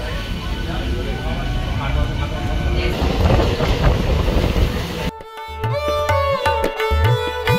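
Train running on rails between Agradwip and Katwa, with a loud, continuous rumble for about five seconds, then a sudden cut to a different tonal sound with tones and clacks.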